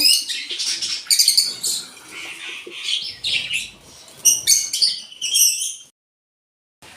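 Pet lovebirds feeding on a prepared morning meal chirp in dense, high, overlapping bursts close by, busy and lively, before stopping abruptly into silence near the end.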